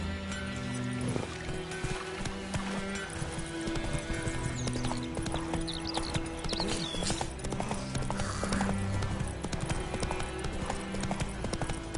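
Steady, rhythmic hoofbeats of a horse ridden across ground in the video game The Witcher 3, running continuously under a layer of ambient game music and environmental sound, with a brief rider's call near the start.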